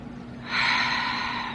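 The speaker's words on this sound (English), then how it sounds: "Just take another deep breath into all that energy" A slow, deep inhale taken during a guided relaxation, close and clear, rising into a steady breathy rush and holding for over a second with no talk.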